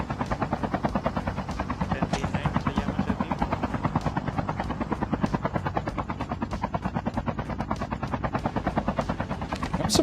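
Helicopter in the mobile shooter Call of Duty Mobile, a steady loud rotor chop pulsing evenly throughout with a dense engine drone and faint scattered gunfire-like cracks.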